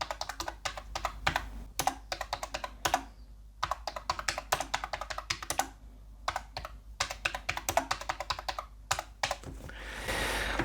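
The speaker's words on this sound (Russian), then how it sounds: "клавиатура мне показалась как бы громкой, клацанье от нажатия достаточно ощутимое" Rapid, loud plastic key clicks from a Ugreen KU004 ergonomic wireless keyboard in uneven bursts of typing, with short pauses between runs and a brief hiss at the end.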